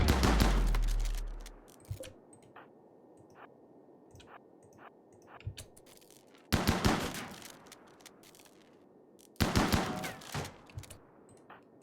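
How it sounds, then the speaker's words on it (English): Bursts of rapid automatic gunfire in the colony-building game RimWorld, several separate volleys of fast cracking shots with quiet gaps and faint clicks between them, no talking. "Oh my god, be better at shooting."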